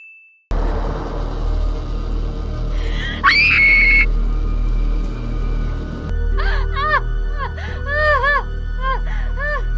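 A woman screams in a tense scene from The Walking Dead, with a shrill rising cry over rumbling background noise, followed by clanging, pitched metallic sounds.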